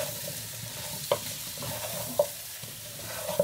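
Pumpkin pieces being stirred in a pot for soup, a low bubbling sizzle underneath with three sharp spoon knocks against the pot at roughly regular intervals, close by and fairly quiet.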